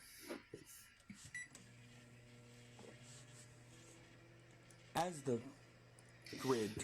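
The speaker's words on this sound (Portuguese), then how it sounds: "Ele vai colocar dentro do micro-ondas e vamos ver o que acontece." A microwave oven runs with a lamp placed inside, giving a low steady electrical hum for several seconds. Voices talk briefly before and after the hum.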